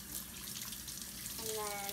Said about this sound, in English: Let me just wash off the soap residue from the soap cutting.